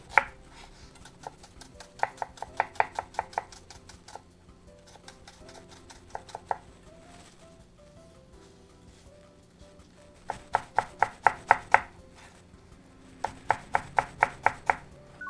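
Rapid knife chopping of vegetables on a cutting board for soffritto, bursts of quick rhythmic taps separated by pauses, close and crisp with no voices.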